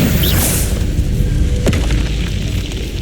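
A Bombarda spell in Hogwarts Legacy goes off as one heavy, close explosion with a deep boom, and a sharp crack follows partway through as the rumble fades.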